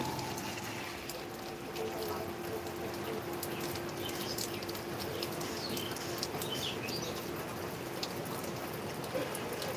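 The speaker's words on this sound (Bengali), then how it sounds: "এই শুভ সকালের মধ্যে কত সুন্দর একটা বৃষ্টির প্রভাব দেখতে পাওয়া গেছে আমাদের এই ভালুকার মধ্যে" Morning rain falling steadily in Bhaluka, an even, continuous hiss of drops pattering on surfaces, with a few faint bird chirps scattered in the background.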